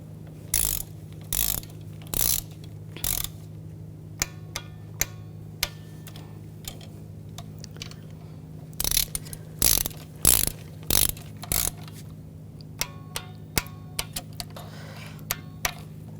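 A ratchet snugs a bolt on the intake manifold of a 2011-2018 Volkswagen Jetta 2.0L TDI, giving bursts of quick clicking pawl ticks separated by pauses over a steady low hum, close and clear with no talking.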